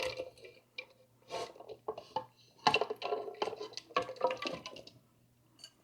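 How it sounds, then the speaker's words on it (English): A mixing bowl being washed out, with bursts of splashing and squishing water and knocks against the bowl that come in irregular clumps, close and moderately loud, with short quiet gaps between. "I'll wash this out."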